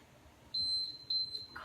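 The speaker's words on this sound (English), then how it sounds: "When it beeps, we get 10 seconds of rest." A faint, high electronic timer beeps in a short series of tones over quiet background noise.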